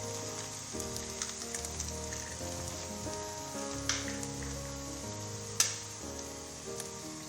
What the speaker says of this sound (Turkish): soğanımız kavruldu yaklaşık bir 4-5 dakika kadar kavurdu üzerine yumurtamı kırıyorum